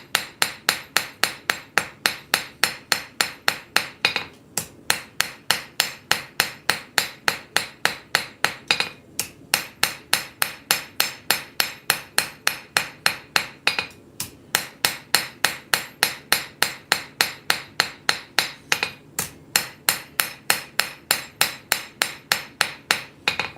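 A straight peen hammer strikes a forged blade again and again, drawing out distal tapers in a workshop, with sharp metallic blows in a fast, steady rhythm, close and loud, broken by a few brief pauses.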